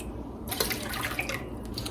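Water poured carefully into a pot holding jars, a steady close splashing pour with bright trickling, running continuously from about midway to the end over a faint hiss.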